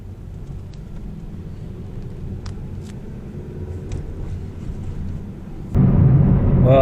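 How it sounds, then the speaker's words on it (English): A heavy lorry drives past on a narrow road as a steady low rumble that swells near the end into a loud, close roar. "even a blooming juggernaut's trying to get through"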